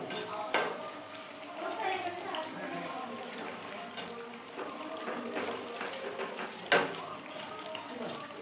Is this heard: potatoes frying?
yes